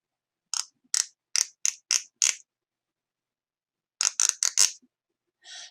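A comb scraped in short bursts imitates a cricket chirping: two clusters of five or six quick, raspy chirps separated by a pause, close and clear, then one softer final scrape.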